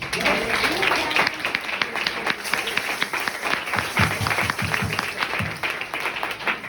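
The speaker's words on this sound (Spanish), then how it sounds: "Un aplauso al Señor." A church congregation applauds the Lord during a Spanish-language worship service, steady dense clapping filling the room with a few louder individual claps standing out near the end, some voices mixed in.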